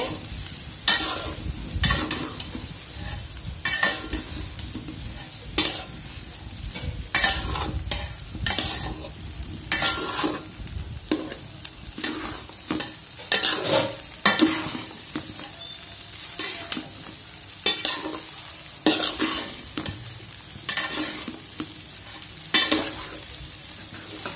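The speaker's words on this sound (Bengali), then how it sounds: "আমি রাইসটা ভালো করে মিশিয়ে দিব সবজির সাথে।" Cooked rice is stir-fried with vegetables in a pan. A spatula scrapes and tosses in repeated, uneven strokes over a continuous close sizzle, with no talking.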